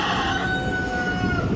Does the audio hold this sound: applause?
no